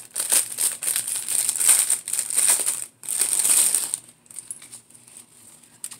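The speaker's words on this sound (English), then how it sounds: "I apologize for the crinkling." A plastic bag crinkles and rustles up close in several bursts as it is pried open, then the noise thins to faint scattered handling sounds.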